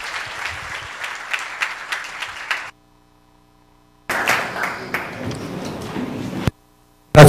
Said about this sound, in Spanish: Demos un aplauso de cariño a esta noche al doctor Carballosa